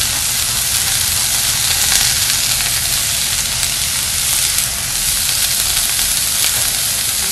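Food cooks in a pan with half a teaspoon of salt and a teaspoon of black pepper, giving a steady, loud sizzle and hiss throughout.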